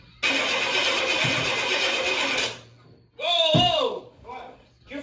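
A retired race engine cranks with a dense starter whir, then catches and fires in a loud burst that quickly fades, with people talking nearby afterward.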